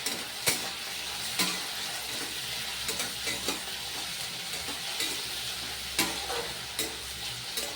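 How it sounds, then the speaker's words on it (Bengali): Peanuts and potatoes stir-frying in a pan for chire pulao, a steady sizzle with the scrape of a utensil stirring through the pan at intervals, close and fairly quiet, with no voices. "আলু বাদামটা ভালো করে ভেজে নিচ্ছি"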